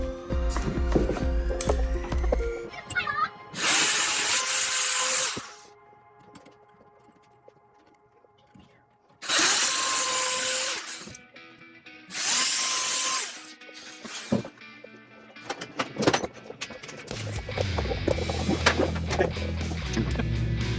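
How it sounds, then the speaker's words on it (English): A power drill pre-drilling wood whirs in three loud bursts of a few seconds each, separated by quieter clatter and handling noises, close by. "now we're gonna go ahead and pre-drill so that we don't split the wood"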